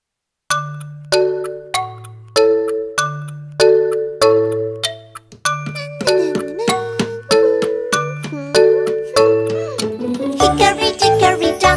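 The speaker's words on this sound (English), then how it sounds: "The clock struck one. The clock bell rings, ring." A clock bell chimes in a nursery-rhyme tune, clear ringing tones striking one after another in a steady pattern before a busier, brighter cluster of bell notes builds at the end.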